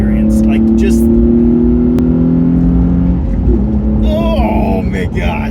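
Nissan 350Z engine holding a steady droning note and then shifting as revs change, loud and close from inside the car, with someone talking over it.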